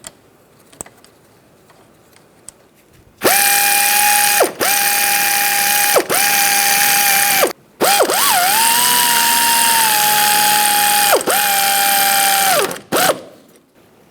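A ratchet tool spins loudly up close tightening hub assembly bolts on a 2007-2013 Mini Cooper during a wheel bearing job, running in several sustained whirring bursts separated by short stops.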